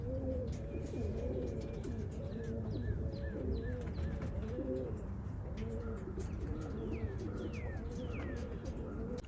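Racing pigeons on their first release coo in low, rolling, repeated calls with scattered thin chirps and whistling sweeps above, a steady flock sound near and continuous, with light wing flutter.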